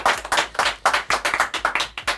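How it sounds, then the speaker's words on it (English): A small studio audience claps for a guest on a sim racing podcast, a quick run of distinct, close handclaps in an uneven rhythm lasting a couple of seconds. "Let's get a round of applause for Matt"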